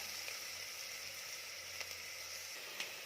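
Onion being sautéed in a pan for Kolhapuri mutton rassa, heard as a faint, steady, soft sizzle with a few light clicks and no talking.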